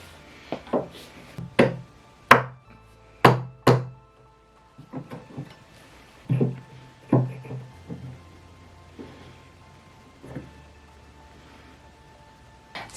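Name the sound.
rubber mallet and putty knife prying off a furniture foot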